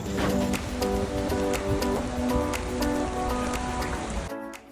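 Rain falls steadily at a campsite in Bilbao, a dense continuous patter of drops with some louder taps, fairly close and alone, cutting off abruptly at the end.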